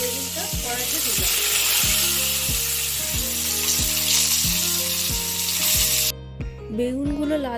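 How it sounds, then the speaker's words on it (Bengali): Salted, turmeric-rubbed eggplant sizzles in a wok with a loud, steady hiss, while rhythmic low clanks from a utensil repeat about twice a second; the frying sound drops off abruptly near the end. "আগে থেকে নুন হলুদ মাখানো বেগুনটা কড়াইতে দিলাম।"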